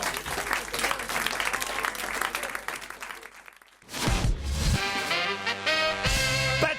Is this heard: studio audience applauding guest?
yes